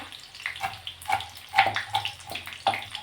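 Green chili and garlic cloves being rinsed under running water at a kitchen sink, a steady gushing splash with brief louder surges as the produce is moved in the stream.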